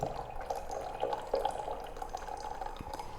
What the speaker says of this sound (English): you may pour down the ready tea into the fair mug